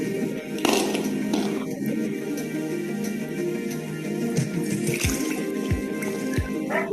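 Water collected from a dripping, loosely closed tap is poured from a bottle into a jar, giving a steady close splashing trickle with a few louder gurgles.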